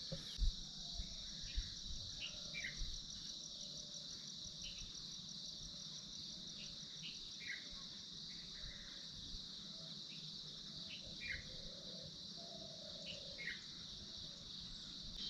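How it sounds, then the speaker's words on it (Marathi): Morning birdsong near a forest at a farm tourism resort, with repeated bird calls and chirps over a continuous dense drone of crickets, steady throughout. "अजून पाठीमागं बघा पक्षी कसे ओरडत आहेत"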